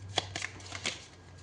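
Oracle cards shuffled by hand in a few short papery riffles, close and fairly quiet, over a low steady hum, with no talking.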